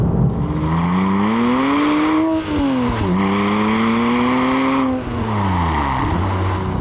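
A converted Porsche Cayman 987 with a 4.1-litre engine revs hard through the gears, its loud rising engine note climbing, dipping briefly at each quick shift, then climbing again, heard close and alone.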